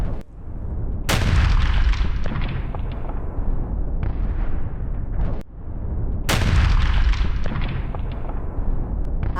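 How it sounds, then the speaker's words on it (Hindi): Two heavy blasts from an Israeli military strike in Lebanon boom out several seconds apart, each followed by a long rumbling roar that slowly fades. "इजरायली हमले में भारी धमाके की यह तस्वीर"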